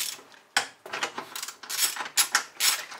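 Ratchet wrench clicking rapidly as 17 mm bolts are loosened from a van seat base, close and crisp in several quick bursts with brief pauses.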